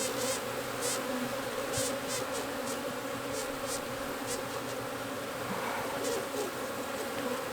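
Honey bees swarm densely in an open Apimaye hive during a colony split, producing a steady, close buzz with individual bees whining past the microphone now and then. No one speaks.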